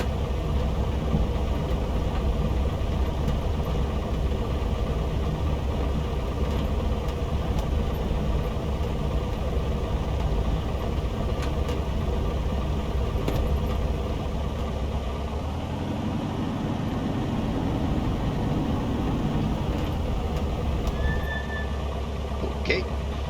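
Piper Cherokee light aircraft engine idling on the ground before a run-up, a steady low droning rumble that continues throughout at a constant level, with a brief drop in tone partway through.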